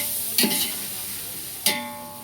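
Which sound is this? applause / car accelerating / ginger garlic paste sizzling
ginger garlic paste sizzling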